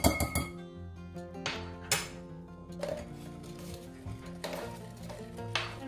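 A spoon clinks against a bowl while flour is mixed into cookie dough, a run of close, repeated metallic taps and scrapes at an irregular rhythm with no talking.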